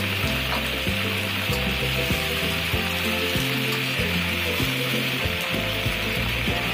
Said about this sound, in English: everything goes into the big wok. Stir fry with oil until red.